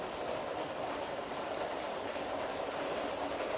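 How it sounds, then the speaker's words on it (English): Heavy rain pouring steadily during a storm, a dense continuous hiss and rushing roar without breaks, moderately loud and close throughout. "Hear how hard the rain's coming down?"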